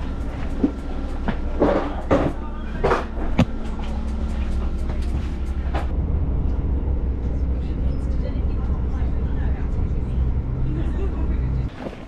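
A train rumbles steadily along the tracks, with a low, continuous drone and scattered clicks and clatter from the carriages over the first few seconds.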